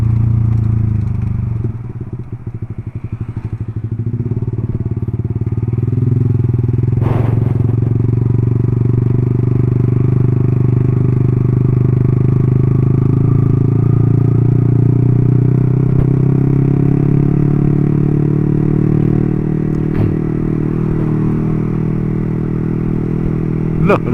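Steady engine of a 2017 Yamaha R15 v3 sport motorcycle being revved while riding on a road, a loud continuous drone with rising throttle swells and some wind and road clatter throughout.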